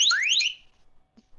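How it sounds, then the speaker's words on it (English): A phone alarm rings inside a game session, a quick bright rising electronic chirp pattern that sounds loud for about half a second and then cuts off, leaving near silence with a faint click. "Oh, it's my alarm."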